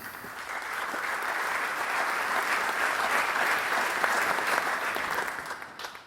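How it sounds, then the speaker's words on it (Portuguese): Audience at an inaugural conference round-table applauds a business executive being introduced, a sustained wave of clapping that swells and then fades toward the end. "peço uma salva de palmas para ela"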